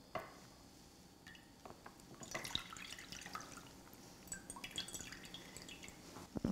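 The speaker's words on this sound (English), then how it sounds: "We just dip our wrapper in the warm water for 3 to 5 seconds till it starts to soften." A rice paper wrapper is dipped in warm water and lifted out, with faint, scattered drips and small splashes trickling back into the bowl, quiet and close.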